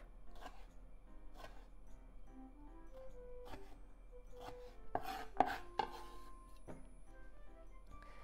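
A knife chops tomato into bite-size pieces on a cutting board for a tomato tuna salad, a series of soft, close, irregular taps, a few sharper ones in the middle, with no talking.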